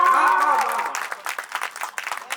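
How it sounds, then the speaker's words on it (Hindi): An audience claps at a speech event in a dense, steady patter that follows a brief voiced cheer, the applause fading somewhat toward the end. "आपकी तालियां कमजोर पड़ रही थोड़ा सा"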